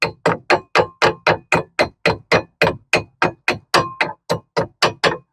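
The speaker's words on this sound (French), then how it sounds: "Un petit coup de marteau." A hammer taps a brake part on the front brakes of a Citroën C4 Picasso, giving about nineteen sharp metallic clanks in a steady, fast rhythm. Each strike is close and loud with a quick ringing decay.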